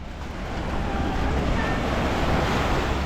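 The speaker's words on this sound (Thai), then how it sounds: "เสียงคลื่นมันสาดซัด" Waves wash and crash continuously onto the beach at Mai Khao in Sirinat National Park, Phuket, a broad, loud roar mixed with wind buffeting the microphone, building slightly after the first second.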